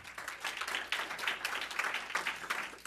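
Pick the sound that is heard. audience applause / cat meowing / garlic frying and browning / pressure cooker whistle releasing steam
audience applause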